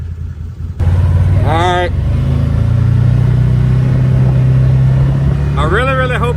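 The engine of a Can-Am XMR HD10 side-by-side runs at a steady idle on a cold day, a loud, close, low drone. Someone talks briefly over it.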